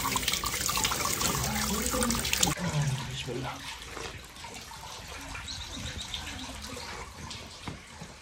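Natural spring water flows from the ground at a public drinking spot by the Tomb of Daniel in Samarkand, Uzbekistan, a steady broadband splash running throughout, louder at first and then softer, with voices faintly around it.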